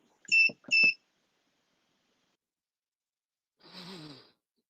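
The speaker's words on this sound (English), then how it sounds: "That beeping noise you hear is our electric shock collar" Two short electronic beeps from an electric shock collar in quick succession at a curling match, then silence, followed by a faint breathy sigh-like sound.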